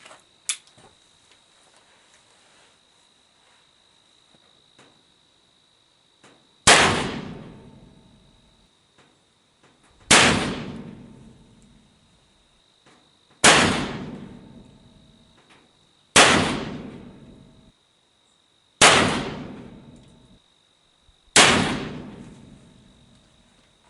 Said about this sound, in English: Alright, we're set to shoot our Lee Conicals, the first string of 6 of those.